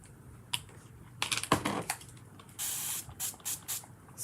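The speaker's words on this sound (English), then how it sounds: "Spray some water." A hand spray bottle mists water over paint while making a door tag, giving several short, sharp hissing bursts, one longer spray in the middle, then quick repeated squirts, close and clear with no talking.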